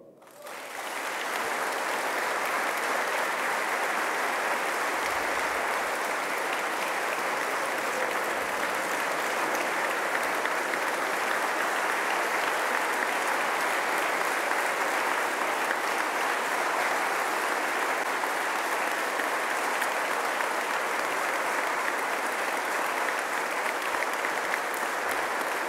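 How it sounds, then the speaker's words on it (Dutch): A large crowd gives a standing ovation, with steady, dense applause that holds loud and even for about twenty-five seconds with no talk over it. "En dat is een verdiend applaus, Geert."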